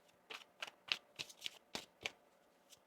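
Tarot cards riffle and slap together in a quick series of crisp, close bursts, about eight in under three seconds, with no voices.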